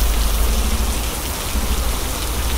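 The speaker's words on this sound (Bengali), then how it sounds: "যথেষ্ট পরিমাণে পানি আছে, বৃষ্টি হচ্ছে" Heavy hurricane rain pours down in a dense, loud, unbroken roar with a deep rumbling low end, steady from start to finish with no voices.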